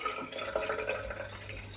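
Tap water runs into a bathroom sink with soft splashing and dripping during a makeup-removal routine, steady and close for a couple of seconds without talk.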